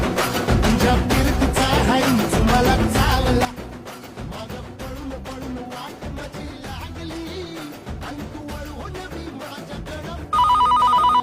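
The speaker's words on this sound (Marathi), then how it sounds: "दिप्या फोन आला." A telephone bell rings in a loud burst at the end, after a stretch of Marathi song and music that plays throughout.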